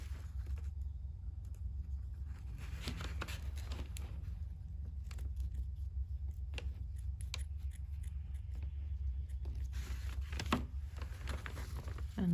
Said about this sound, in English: And then I'll trim the ends with my scissors.